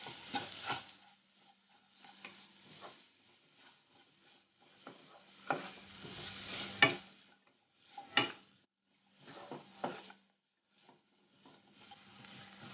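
Onions with salt sautéing in a pan for spicy chicken rice, heard as quiet, intermittent bursts of sizzle and spatula stirring separated by near-silent gaps, close and low in level.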